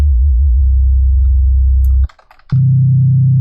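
Steady synthesized tones from an Ableton Operator oscillator pulse with a slow beating wobble, loud and alone, break off briefly for a moment of faint clicks, then resume at a higher pitch.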